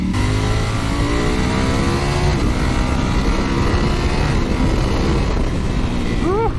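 A Ducati Panigale V4S motorcycle is ridden on the road, its engine roaring loudly and continuously close to the listener, with rising rev sweeps as it accelerates and wind rush underneath.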